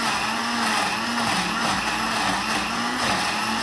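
A blender grinds chili and garlic for chili garlic oil, with a loud, steady motor whine that holds continuously throughout. Its pitch wavers slightly as the load shifts.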